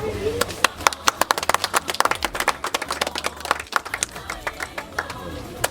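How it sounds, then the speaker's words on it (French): At a dowry ceremony, a small gathering claps in a loose burst of sharp individual handclaps, uneven and fairly close, with voices murmuring underneath. "Est-ce qu'on peut applaudir?"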